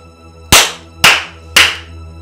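Three sharp, loud hand claps spaced about half a second apart, each ringing out briefly over a low steady hum in a Nigerian drama scene.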